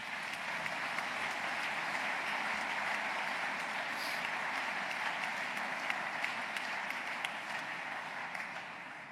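An audience applauds at a secularism awards ceremony in France, filling a hall with sustained, even clapping and a few sharper individual claps standing out near the end.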